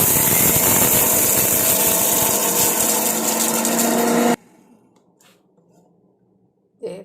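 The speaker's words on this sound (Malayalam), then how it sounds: "ഇതിലേക്ക് ഒരു സ്പൂൺ ഉലുവ എല്ലാം കൂടെ ഇട്ടിട്ട് നമുക്കൊന്ന് പൊടിച്ചെടുക്കാം." A kitchen mixer grinder whirs loudly and steadily while grinding fenugreek seeds for a homemade hair dye, then cuts off abruptly, leaving quiet rattles and a brief final burst.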